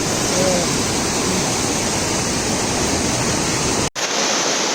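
Floodwater rushes loudly over a village dam swollen by heavy rain, a dense, steady roar close by that continues unbroken apart from a brief dropout near the end.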